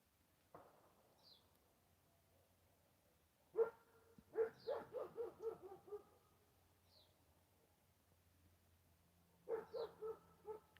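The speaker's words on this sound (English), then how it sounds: "What is that dog barking at?" A dog barks outdoors at a distance, a single yelp followed by a quick run of six or seven barks, then a pause and another short burst of three or four, with faint bird calls in between.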